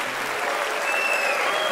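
An audience claps steadily at a Frankfurt jazz festival concert, thick continuous applause that swells slightly while faint voices sit beneath.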